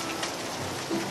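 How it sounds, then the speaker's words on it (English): Heavy, big freezing-rain droplets pelt down during an ice storm, a dense, steady close-up patter with no voices. "big and heavy water droplets. Not regular rain in my opinion"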